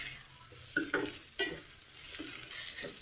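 Brinjal curry with garlic chili powder is stirred and fried in a pan, giving a quiet steady sizzle broken by a few scraping spatula strokes, close up and without talk.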